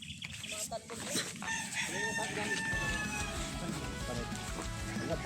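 A rooster crows at close range outdoors in Dasmariñas, Cavite, its call rising over chicken clucks and background chatter, with people talking nearby.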